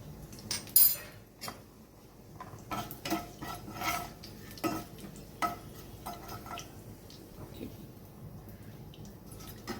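Bay leaves, lightly crushed whole garam masala and half a spoon of sugar sizzle in hot oil, with clinks and scrapes of a stirring spoon against the pan in irregular bursts over a soft crackle, close and moderately loud, without speech.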